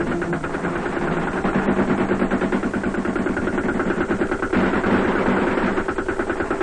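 Sustained automatic gunfire during a tank and infantry assault by the Australian Task Force in Vietnam, a loud, steady rapid rattle of bursts over an engine drone, continuing throughout without talk.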